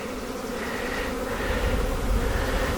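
Close, continuous droning buzz of many honeybees inside a hive box prepared as a queenless split, a steady hum with slight swells in loudness.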